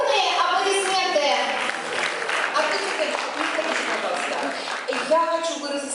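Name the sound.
audience applause at school anniversary celebration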